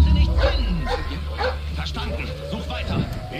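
Dogs bark and yip at an estate in Splinter Cell Blacklist, several short barks spread across the scene under game ambience, mid-distance, while a voice talks over them.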